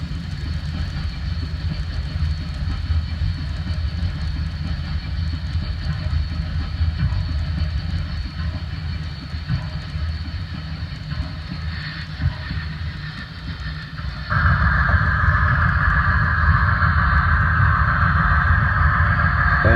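An N scale Con-Cor 4-6-4 model locomotive runs on the layout, giving a steady mechanical whir and light rail rumble throughout. About two-thirds of the way in, a sharper, brighter motor tone joins and holds to the end.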